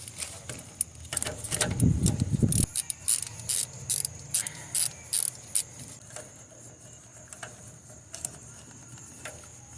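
A ratchet wrench clicks in quick bursts as it backs out a 12mm bolt from the engine coolant bypass valve on a Toyota. The rapid, fairly close ratcheting comes alone, with no talk, after some initial handling noise.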